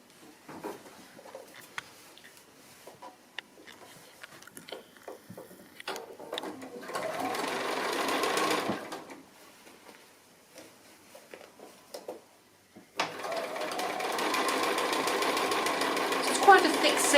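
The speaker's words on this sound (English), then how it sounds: "So we'll just sew this seam so that I can show you this one." A sewing machine stitches a thick quilted seam through substantial batting in two runs of fast, close mechanical whirring, separated by quieter handling noises and talk.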